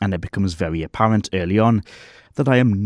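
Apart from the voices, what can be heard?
None of the usual background noises is heard.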